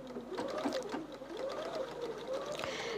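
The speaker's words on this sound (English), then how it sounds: "you can sew over these little fine fork pins" A sewing machine runs continuously while stitching quilt sashing pieces, a soft steady whirring hum with a rhythmic rising and falling motor tone, quiet and close.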